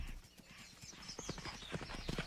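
Hooves of playful horses clip-clopping in a quick, irregular patter on the ground, close and fairly clear, with faint whinnying.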